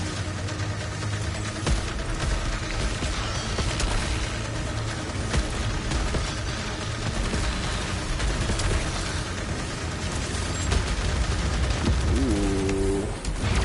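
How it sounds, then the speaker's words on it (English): Rapid-fire sidearm shots in the sci-fi shooter Returnal, a dense, fast stream of bursts that keeps up without a break alongside other combat noise, close and loud. "this is another sidearm, but this one shoots very quickly"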